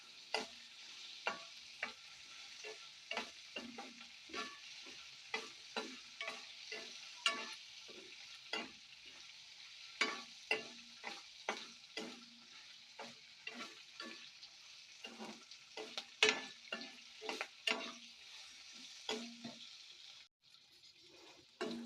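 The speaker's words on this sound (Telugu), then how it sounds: "సన్న మంట మీద మిర్చి అయితే మాడకుండా నిదానంగా అయితే వేపుకుందాం అండి" Green chilies fry slowly in a pan over a low flame, giving a soft, fairly faint sizzle punctuated by a steady run of small crackling pops.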